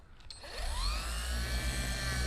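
Dual action polisher spreading McKee's graphene ceramic sealant, the motor spinning up with a rising whine and then holding a steady, close buzzing drone.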